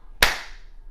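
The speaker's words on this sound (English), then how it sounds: "Now comes the part where I go a clap" A single sharp hand clap rings out in a quiet studio, close and crisp, with a short fading tail.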